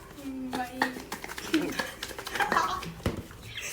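A covered cooking pot is shaken to mix the food inside, giving scattered metallic clanks and rattles close by while people talk over it.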